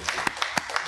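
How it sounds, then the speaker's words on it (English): A church conference congregation gives a quick round of hand claps for the praise team, five crisp claps in a brisk, steady rhythm close by, with a faint murmur of voices underneath. "Can we give a hand clap to the Lord for them?"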